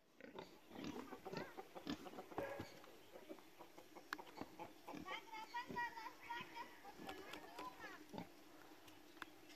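Pigs grunt on a ranch amid a lively outdoor scene, their grunts mixed with children's voices and adult talk, fairly faint and continuous.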